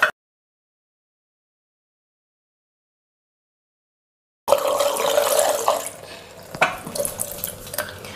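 Makeup brush rinsed under a running tap, a steady splashing water stream starting abruptly after a long silence and continuing to the end, with a few louder splashes near the close.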